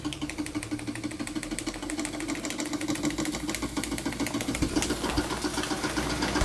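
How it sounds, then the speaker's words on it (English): A restored Märklin 4106/6 model steam engine runs steadily nearby with a quiet, even mechanical chuffing and a fast rhythmic ticking over a low hum, continuing without pause or voices. "That is a very nice running engine."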